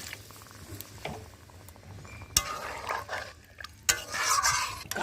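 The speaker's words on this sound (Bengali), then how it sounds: "এবার আমি এর মধ্যে হালকা জল দেব।" Water poured into a pan of well-fried curry, with a sharp splash and a burst of hissing, bubbling sizzle after a stretch of quiet clinking and stirring nearby.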